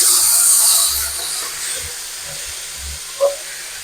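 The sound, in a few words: chopped tomatoes sizzling as they are added to frying ginger-garlic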